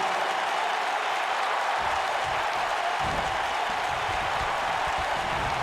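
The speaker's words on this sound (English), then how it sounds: "The sold-out crowd here in Kansas City, red hot for Eric Young" A sold-out arena crowd in Kansas City, WWE 2K wrestling game, roars in a continuous broad wash of cheering and applause, loud and steady, with low thumps beneath.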